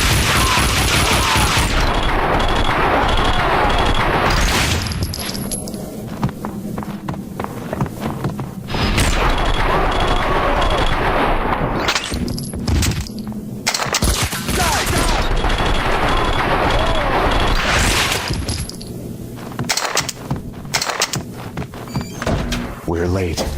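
Gunfire in the Max Payne video game: dense bursts of rapid shots and heavy thuds dominate most of the stretch, with brief quieter gaps in between and voices under the action.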